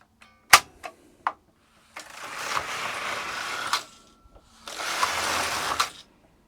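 A Singer Superba knitting machine has a few sharp clicks and clacks as it is set up, then its two carriages make two passes, each a steady close whirring rasp of about two seconds ending in a clack.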